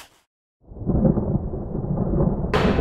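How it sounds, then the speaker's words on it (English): Heavy thunder rolls in after a brief silence, a deep, loud rumble that swells and sustains for about two seconds before a sharper crackle at the end. "That was thunder."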